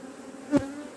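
Honeybees at an opened hive hum in a steady low drone, with one louder bee briefly zipping past close by midway.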